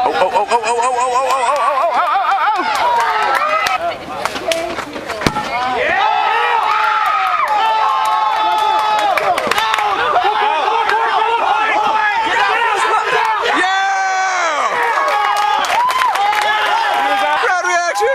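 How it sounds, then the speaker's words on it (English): At an outdoor kickball game, a crowd of players and spectators cheers, shouts and chatters excitedly. Many overlapping voices and laughter keep up a loud, busy wash of sound, with scattered sharp claps and thuds. "Crowd reaction"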